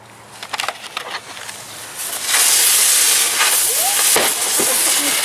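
A Black Cat firework rocket launches with a loud rising hiss that roars steadily for several seconds after a few scattered crackles, with faint sharp pops near the end.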